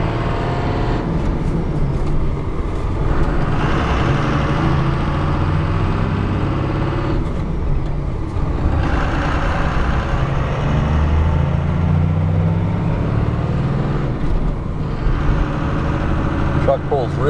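A 1995 Dodge 3500 dually pickup with a Cummins diesel and five-speed manual pulls away in its lowest gear. The engine drones steadily and loudly throughout, close by inside the cab, with a person talking over it.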